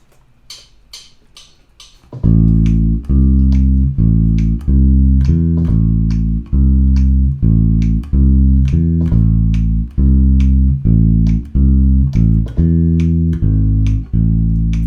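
After a few quiet plucks, an electric bass plays a steady jazz walking line of evenly spaced, round low notes, loud and unaccompanied.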